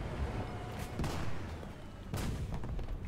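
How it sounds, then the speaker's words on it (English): Artillery fire in a World War II tank game, a few dull booming impacts spaced about a second apart, sitting in a dense rumbling battle background at moderate volume. "That's artillery."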